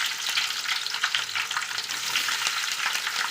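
Mustard seeds and green chilies frying in sesame oil for a mango pickle, a loud, dense, crackling sizzle with fine popping bursts, close and continuous.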